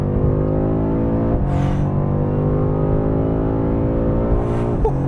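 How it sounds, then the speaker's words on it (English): A 2022 BMW M5 CS accelerates on the road, its engine note climbing steadily in pitch as it pulls hard. It sounds loud and close, with a brief gear-change dip partway through, and no voices. "All right, driving the M5 CS."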